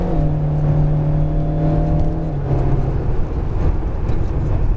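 An Alpine A110R engine revs hard on the Lohéac track, a loud, sustained buzzing drone that climbs and then drops with a gear change, heard close up.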